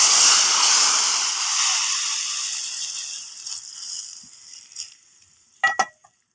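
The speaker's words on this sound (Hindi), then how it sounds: "तड़का हमारा तैयार हो चुका है। अब हम दाल में डालेंगे।" Loud hissing sizzle of hot tempering oil poured into moong masoor dal, fading gradually over several seconds, ending with a couple of brief clinks.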